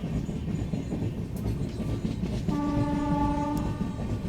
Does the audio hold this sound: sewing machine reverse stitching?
no